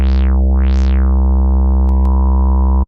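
Waldorf Iridium synthesizer using its Quantum filter model: a loud held tone with two quick filter sweeps up and down, settling into a steady, duller sustained note, with a couple of brief clicks before it stops.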